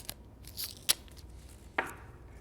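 Painter's tape being pulled from the roll and torn off, with a few quick ripping and snapping sounds close by in a quiet room.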